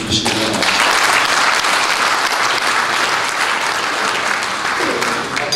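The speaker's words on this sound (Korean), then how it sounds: "큰 격려의 박수 한번 보내주시기 바랍니다." Loud, dense applause from a large audience of about 500 at the founding ceremony of a civic forum in a hall, steady and sustained throughout.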